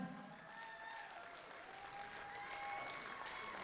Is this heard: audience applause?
yes